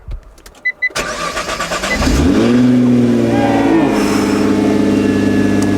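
Wrecked Nissan GTR engine cranking and starting after a few clicks, then revving up and settling into a loud steady rumble close by.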